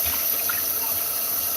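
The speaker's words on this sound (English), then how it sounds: "I'm gonna set that down and rinse this over here." Steady running water from a kitchen tap pours over an item being rinsed in a sink, a continuous even hiss throughout, close and moderately loud.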